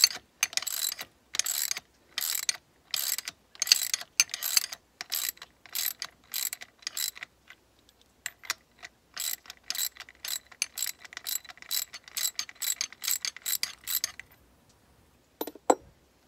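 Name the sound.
loosening a bolt on Mini Cooper S R56 suspension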